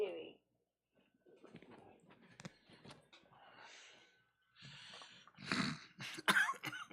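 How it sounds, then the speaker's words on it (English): Several coughs and throat-clearing sounds, close and fairly loud, come in uneven bursts, with quieter breathy noises between them. "It makes me cough."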